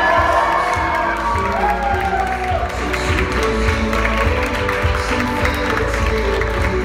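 A roomful of wedding guests at a Boston Cambridge Marriott reception keeps up sustained clapping and cheering, with scattered whoops and shouts over a loud, continuous crowd roar.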